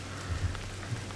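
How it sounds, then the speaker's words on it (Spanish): Steady rain in the video game Gris on Nintendo Switch patters softly across a surface with a continuous hiss and a low hum beneath, with no voices. "Ahora está lloviendo"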